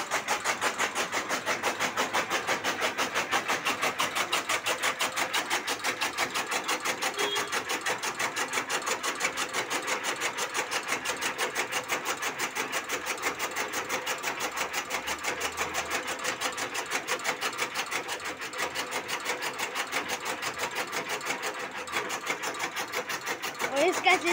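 Motorized fodder cutter chopping jowar (sorghum grass) runs with a steady, loud mechanical whir and rapid rhythmic chatter throughout, constant and close.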